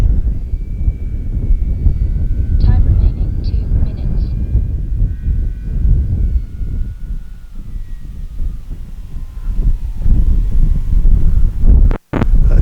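Wind buffeting a microphone outdoors at a windy radio-control model airplane field, a heavy continuous low rumble throughout with a faint whining motor tone drifting above it and a brief dropout near the end.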